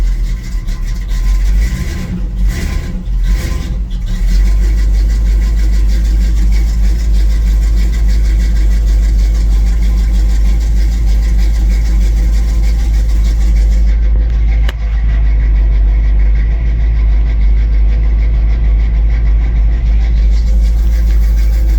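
An old red car's engine idles while it warms up, a loud, steady low rumble that holds constant and close, with a few brief bumps near the start and no talking.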